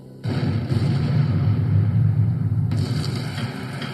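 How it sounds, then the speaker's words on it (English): A massive explosion at the BP oil refinery in Texas City sets off a sudden loud, low roar that stays heavy and sustained across the whole clip, with no voices. "A massive explosion rocks the BP oil refinery in Texas City."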